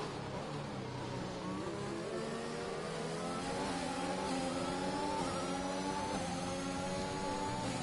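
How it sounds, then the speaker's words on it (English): Race car engines in an F1 2021 video game race at the Bahrain Grand Prix, a steady high-pitched whine with shifting, rising revs and some wheel spin, loud and continuous with no talk. "Oh, that was some wheel spin from Angel Stefanov."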